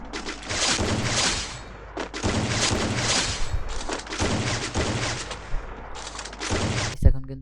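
Sniper rifle shots and gunfire ring out in the Free Fire video game as dense, loud bursts of repeated shots broken by brief gaps, ending with a sharp single blast.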